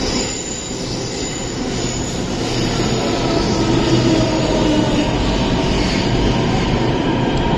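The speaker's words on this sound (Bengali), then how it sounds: "চলে এলো আমাদের আরেকটা মেট্রো" A Delhi metro train rolls into a station, a loud, sustained rumble of wheels on rails with squealing tones that builds and holds steadily throughout.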